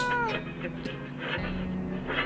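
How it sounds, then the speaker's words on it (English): A cat meows in the survival video game 60 Seconds, with a short close mewing cry over a steady hum of game music and background tones. "it's a cat! We got the cat back!"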